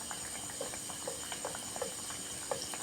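Khaja pastry dough sizzles in a pan of hot oil, a steady fine crackle with scattered pops and bubbling, close and moderately loud, no voices.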